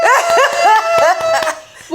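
A beagle mix puppy lets out a quick run of high, rising yips and barks, close and loud, with short pauses between bursts and a final little yelp.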